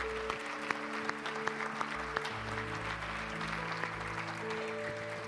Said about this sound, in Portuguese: Aplauda Jesus por essa palavra.